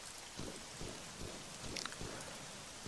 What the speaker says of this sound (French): il aurait pas dû mettre la pluie là, c'est pas possible, ça rame trop